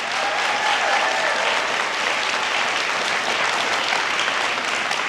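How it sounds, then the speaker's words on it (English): Steady, dense applause from a large audience at a college commencement ceremony honoring veterans, continuous and even throughout. "Let's give these men and women a round of applause."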